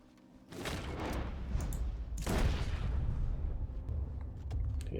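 Video game gunfire, two loud booming shots a couple of seconds apart, each trailing into a long echoing decay, with no voices over them.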